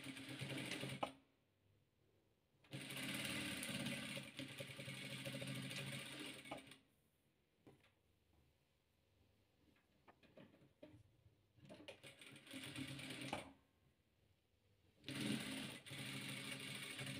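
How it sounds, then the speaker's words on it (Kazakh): A sewing machine stitches patchwork squares in several bursts of steady whirring, separated by short pauses, close and clear with no voices. "Енді осыларды тігіп аламыз."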